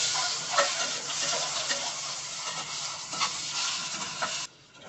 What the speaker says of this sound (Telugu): మనం ఉడికించి పెట్టుకున్న ఎగ్స్ యాడ్ చేసుకొని ఫ్రై చేసుకోండి.